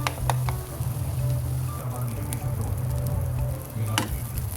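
Chicken liver masala fries in a pan, giving off a steady, close sizzle with a few soft stirring clicks and no talk.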